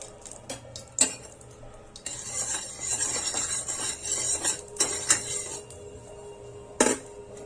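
Coconut roasting in a little pure ghee in a kadhai, heard as a soft steady frying hiss with scattered metallic clinks and scrapes of a spoon against the pan, close by.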